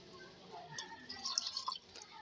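Water poured into a cooking pot of potatoes for a curry, a faint trickling splash that grows brighter and busier toward the end, heard close.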